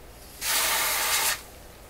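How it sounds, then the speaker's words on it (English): A single short burst of freeze spray hisses loudly for about a second onto a Rogers 11RA651 shortwave radio's circuit, then cuts off, with quiet before and after. "I'm going to spray the cold"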